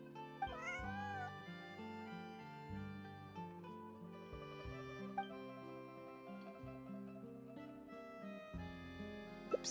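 Bonnie, a cat in Genshin Impact, gives a short high meow near the start, then soft game music plays with steady sustained tones and a few faint clicks.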